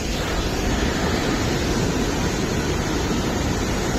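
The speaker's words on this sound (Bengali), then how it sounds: "দুইটা ঝর্ণা কি সুন্দর।" Small waterfalls in Darjeeling rush with a steady, loud, broadband roar of falling water that holds constant throughout, close by and with no voices.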